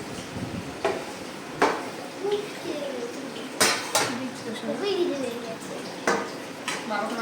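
Dishes and cutlery clink as rice and food are served onto plates at home during a simple lunch, with several sharp knocks and scrapes spread through the clip while a person talks between them.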